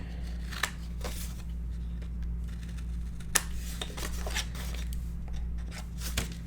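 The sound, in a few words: trimming paper corners for an 8x8 mini album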